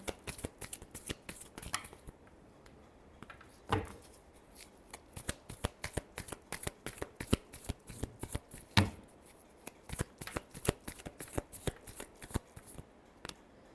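Tarot cards are shuffled by hand in close, crisp bursts of riffling and snapping, repeated in an uneven rhythm with no voices.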